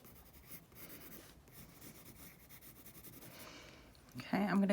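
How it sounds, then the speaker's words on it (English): Eraser rubbing over a pencil drawing of lips on paper, soft close scratchy strokes in a continuous irregular rhythm, then a louder handling noise at the end. "I'm going to go back in with my eraser"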